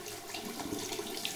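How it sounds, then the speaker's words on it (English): Hot water runs from a tap, rinsing the face after shaving in a bathroom, a steady close hiss and splash with no pauses. "from hot water to the face to rinse it off"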